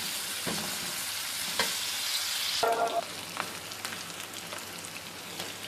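Onions sizzle steadily in hot oil in a pan, a continuous crackling fry with occasional stirring scrapes, moderately close and with no voices.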